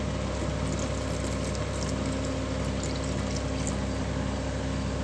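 Water is poured into a pot of carrot and beans vegetable kurma, making a soft, steady rushing pour that lasts a few seconds at low volume, with no talking.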